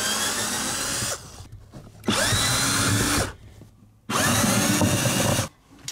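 A power drill backs a screw out of the angle plate fastening a couch to the floor, three loud whirring bursts of about a second each separated by short quiet gaps with faint handling noise.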